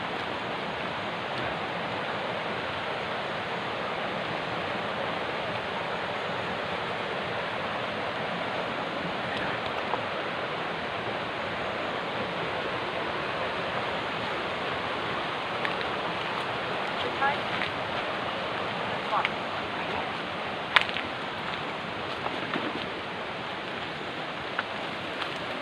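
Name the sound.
flowing creek water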